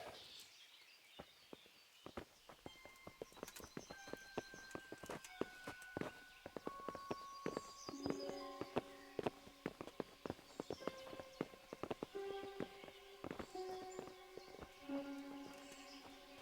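Horse hooves clip-clop steadily at a walking pace in the video game Kingdom Come: Deliverance, with a light musical score of plucked and chiming tones playing underneath.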